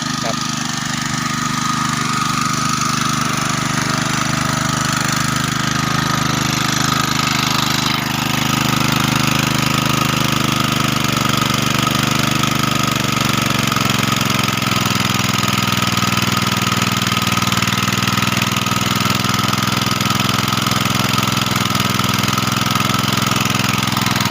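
A water pump engine running on bamboo charcoal gas idles in a steady, loud mechanical drone with a low chugging rumble, heard close by without a break.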